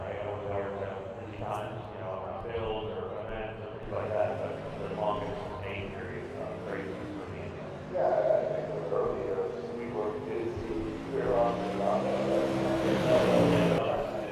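Race cars, including UMP, 358 and Super Late Model stock cars, run qualifying laps around a racetrack with a steady engine drone and rising revs, heard continuously under ongoing talk.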